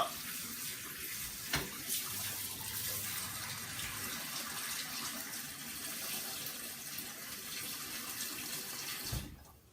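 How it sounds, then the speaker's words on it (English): Water runs steadily from a kitchen tap into a pan or sink while carrots are being prepared for cooking, a continuous close hiss with a couple of knocks near the start and a brief clunk just before it stops. "I've just added some water here"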